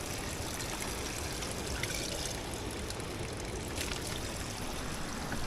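Drinking water pours steadily from a tap or spout into a container during a walk toward a shop in Georgia, a continuous close trickling splash with no talk.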